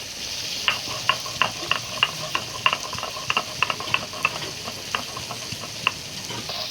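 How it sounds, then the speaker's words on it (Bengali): Bhola fish fries in a pan with a steady soft sizzle and hiss, broken by frequent small crackles and pops at an irregular pace, close by and at moderate volume, with no talking. "মাছটা ভাজা হতে থাক"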